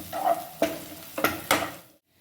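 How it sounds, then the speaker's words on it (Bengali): Onion frying lightly in a pan, a soft sizzle broken by four or five short scraping stirs, close by and fading to silence at the end. "দেখো পেঁয়াজটা হালকা হালকা করে ভাজা হচ্ছে"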